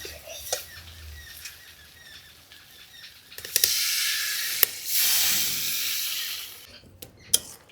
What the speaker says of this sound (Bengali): ঝোলটা ফুটতে থাকুক